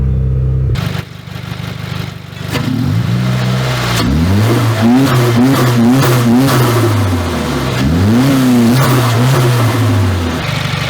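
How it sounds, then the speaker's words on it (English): A Subaru engine runs and revs repeatedly to warm up, with rising and falling rpm sweeps and a steady idle between them, close and loud, with no talking. "Plan, let the car run and heat it up."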